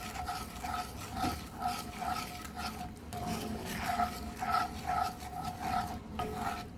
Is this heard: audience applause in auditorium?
no